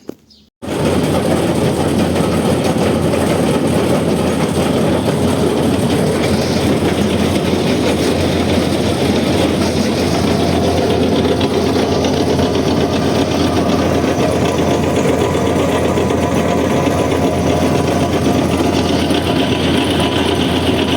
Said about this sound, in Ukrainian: зараз заводимо комбайн і запускаємо жатку.